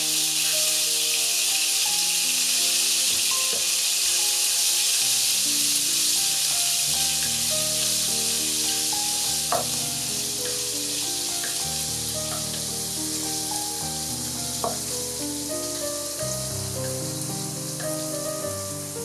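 Chopped green onion, about two tablespoons, fries in a pan for a red sauce pasta, giving a close, continuous sizzle with small crackles and pops over soft background music.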